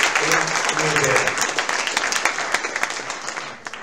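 An audience at an Ahmedabad South Indian Association felicitation function applauds dancers, steady loud clapping filling the hall and gradually thinning toward the end, with a voice speaking over it.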